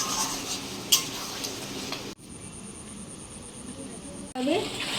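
Egg curry masala being stirred with water in a pan, with a spoon scraping and a soft sizzle, a sharp clink near the start, and a steady high-pitched hiss in the middle before stirring resumes.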